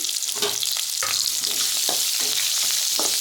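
Four split green chillies sauté in hot oil in a pan for a Kumbakonam kadappa, a loud steady sizzle broken by repeated scraping stir strokes close by, with no talking.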